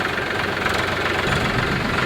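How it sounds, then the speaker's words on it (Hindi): A tractor engine runs on damp farm ground, a steady close rumbling chug with a knocking diesel texture and no pauses. "तो यहाँ पे अभी रामदेव ट्रैक्टर चलाने वाला है इस जगह में।"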